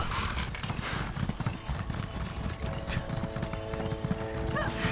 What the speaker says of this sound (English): This horse is so fast.